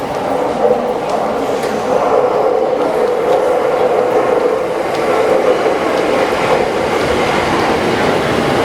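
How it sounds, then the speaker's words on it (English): A Yamanote Line commuter train rumbles into a Tokyo station, its steady roar and rattling wheels loud and close, with faint voices in the background. "There is a train coming."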